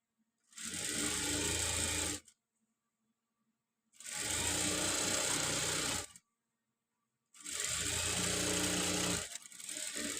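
A sewing machine stitching a saree edge runs in three bursts of about two seconds each, separated by short pauses. Each burst is a steady, close, mechanical whir.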